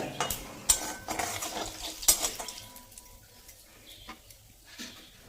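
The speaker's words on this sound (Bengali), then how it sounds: "তেল গরম হয়ে গেলে ফোড়নে দিয়ে দিচ্ছি একটা তেজপাতা হাফ চা চামচ গোটা জিরা" A bay leaf and whole cumin seeds spit and crackle in hot oil, soft sizzling with a few sharp pops and light utensil clicks early on, fading quieter toward the end.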